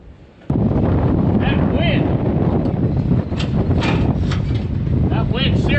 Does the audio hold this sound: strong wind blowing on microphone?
yes